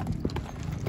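Horse hooves clip-clopping during a horseback ride, several quick irregular hoof strikes over a low rumbling background within under a second, with faint voices around.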